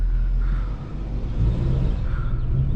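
An 800 HP Shelby drives slowly, its engine a deep, steady rumble with a mild swell of revving, close and loud, with no voices.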